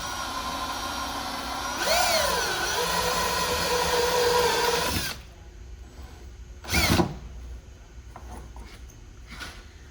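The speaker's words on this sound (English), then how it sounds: "So now that we've drilled our 1-inch hole," A power drill cuts a 1-inch hole in a fuel tank, a steady loud whine for about five seconds that rises in pitch, then quieter handling noises with a brief burst near the end.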